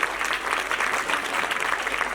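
Steady, dense applause from an audience at a school annual function, a continuous even wash of many hands clapping with no voices rising above it.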